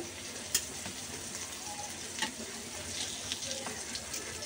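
Bottle gourd pieces frying in spiced oil and being flipped: a faint, steady sizzle with a few soft clicks of turning, no talk.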